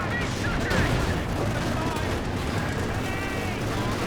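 A Land Mattress rocket artillery barrage in Company of Heroes 2, striking a mortar team in a 3v3 match: a dense, continuous roar of overlapping explosions and rumbling blasts, loud throughout, likely with a voice underneath.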